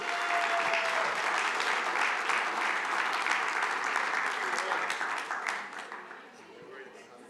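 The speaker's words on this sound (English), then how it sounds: "Another round of applause." Dense audience applause at a city council meeting, a loud continuous wash of many hands clapping that holds steady before fading out near the end, with a brief voice in the background.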